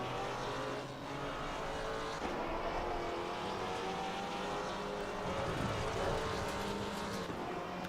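McLaren and KTM race cars in Assetto Corsa Competizione at Imola roar continuously, several engines layered together in a loud, close, droning blend with shifting pitch as they corner.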